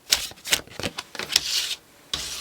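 Tarot cards riffled and shuffled by hand, several quick brisk bursts of papery flutter and snapping, close and fairly loud, with a short pause before a final shuffle.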